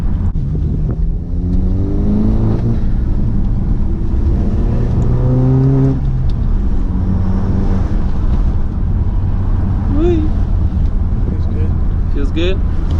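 An Audi car engine runs smoothly at close range, its steady hum rising and falling with light revs, while a person talks over it much of the time.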